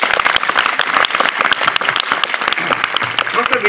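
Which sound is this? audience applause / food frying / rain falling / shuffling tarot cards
audience applause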